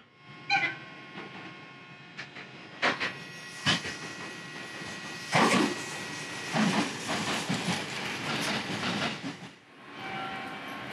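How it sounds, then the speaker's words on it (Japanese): A rapid train to Ogaki, on the line to Nagoya in Japan, rolls along the rails with a steady rumble, broken by clacks and thumps as the wheels pass over joints. "大垣行きの快速列車乗り込みました。"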